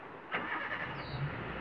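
A safari vehicle's engine starts in Jim Corbett National Park: a brief, fairly faint crank and catch, then a low running murmur over the next second.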